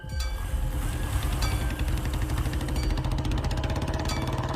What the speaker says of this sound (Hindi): इतने में बाइक स्टार्ट होने की आवाज आई